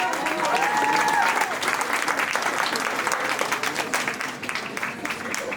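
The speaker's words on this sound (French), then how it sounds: "On peut l'applaudir encore une fois." An audience at a student talent contest applauds a magician with dense, sustained clapping throughout. A brief whistle or cheer rises over it near the start.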